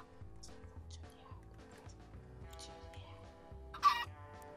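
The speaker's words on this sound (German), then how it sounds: "Oh mein Gott, ein Huhn." A chicken in the video game Minecraft clucks in several short, scattered bursts over steady background game music, ending with a louder squawk near the close.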